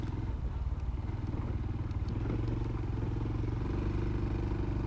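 A motorcycle putters along a track in first gear at low speed, its engine note steady and close with some rattling clatter, no voices.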